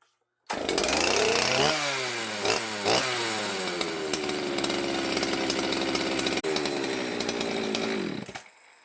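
A Poulan 60cc chainsaw engine starting and running loud and close, its pitch revving up and settling into a steady high idle-to-rev drone for several seconds before cutting off.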